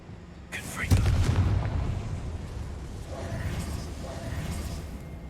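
A Confringo spell goes off in Hogwarts Legacy as a loud, broad blast with a rumbling tail that decays over several seconds, followed by softer booming and debris-like noise.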